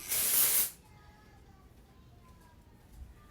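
A short burst of hissing spray from a spray bottle aimed at hair about an inch away, lasting under a second, close and fairly loud, then quiet room tone.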